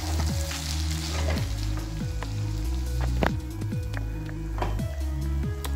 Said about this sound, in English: I'm still stirring it.